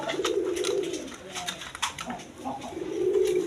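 A pair of big-sized chuital gorra pigeons, a male and a female, coo close by in low, drawn-out murmurs at the start and again at the end, with faint background chatter.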